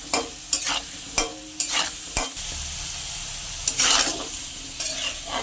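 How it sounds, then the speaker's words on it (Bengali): Potato pieces fry in hot oil with turmeric and salt, giving a constant sizzle. Repeated scraping strokes of a spatula against the pan come close and loud at an uneven rhythm, and no one talks. "একটু হলুদ, অল্প লবণ দিয়ে আলুটা ভেজে তুলে নেব।"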